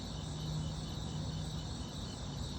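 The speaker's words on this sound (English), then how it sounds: "He just listens to the crickets." Crickets chirp on a calm morning in a continuous high-pitched drone, steady and fairly loud, with a low outdoor hum beneath and no talking.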